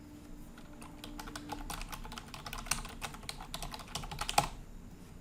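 Close, rapid keyboard typing as a PayPal account name is entered, a steady run of crisp key clicks with a final louder keystroke, then quiet.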